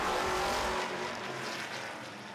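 Stock cars roar around a racing track after a restart, a loud engine drone with a car passing close at the start, then fading into a steadier, more distant rumble.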